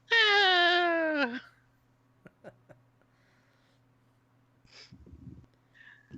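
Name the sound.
cat under the chair being petted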